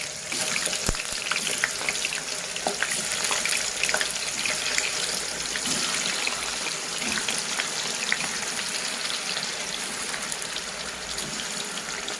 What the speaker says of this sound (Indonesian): langkah pertama kita goreng dulu tahu putihnya sebentar, tidak sampai kering ya guys